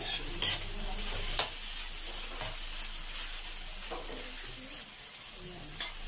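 Fried rice ingredients sizzle steadily in a pan as they are stir-fried. A few sharp scrapes and clinks from a utensil stand out over the continuous close frying hiss.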